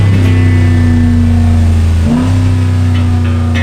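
Aftermarket exhaust on a 2019 Ram Rebel pickup truck rumbles loud and close, with a deep steady idle that swells into a rev about two seconds in and then settles back to a throaty drone.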